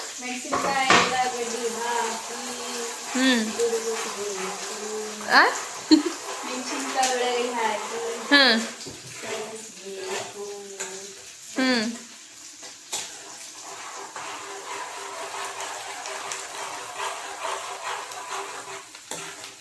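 Onions fry in a pan in a home kitchen, with soft sizzling under clinking and scraping of a utensil against the pan, heard close while people talk over it.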